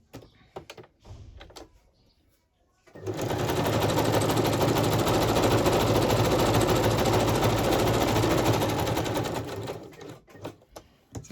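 A sewing machine stitches all the way around fabric tuck spots with flips. Scattered small handling clicks come first, then one loud, continuous run of about seven seconds that stops before a few more light knocks.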